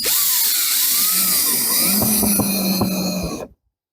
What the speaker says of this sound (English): Drill it all in.